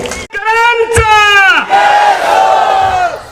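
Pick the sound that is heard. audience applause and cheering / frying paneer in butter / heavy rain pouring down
audience applause and cheering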